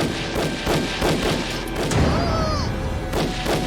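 Repeated gunshots crack out in an irregular volley, sharp loud bursts over a dense, noisy background, in a wartime spy drama scene.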